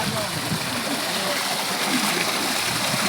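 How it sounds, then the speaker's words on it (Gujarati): Water gushes from a borewell on a village farm, a constant loud rushing splash that fills the scene while people talk nearby. "જો નાવાની આ બોરનું પાણી આવે છે."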